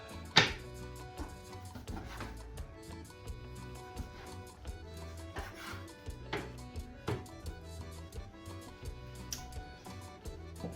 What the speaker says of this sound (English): So a sharper knife is a lot better when you're cutting up things.